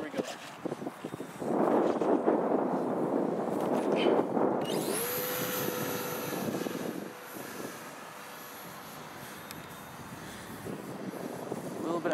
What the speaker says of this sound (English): I'm gonna light the motor.